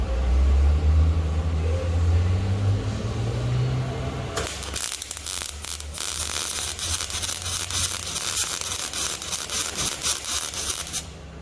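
Wire-feed welding with the wire speed set too high, a dense crackling, popping arc buzz that starts abruptly after a few seconds of low engine-like drone and continues steadily, loud and close.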